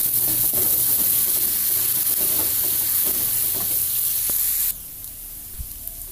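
A ground paste of shallot, garlic, candlenut, coriander and pepper sizzles loudly in hot oil while being stirred, a dense steady frying hiss that drops abruptly to a quieter simmer near the end, no talking.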